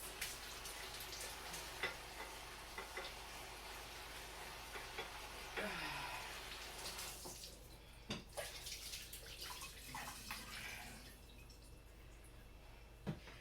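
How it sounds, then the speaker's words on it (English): Raw beef for a stew being rinsed under a running tap, a quiet continuous stream of water with scattered drips and splashes against the sink in the background. "Half a second, I need to rinse this."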